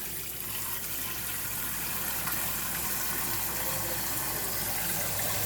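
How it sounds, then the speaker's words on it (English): A pot for boiling salted potatoes fills with water, a steady, continuous rushing splash up close with no pauses and no talk. "So, load it up with water."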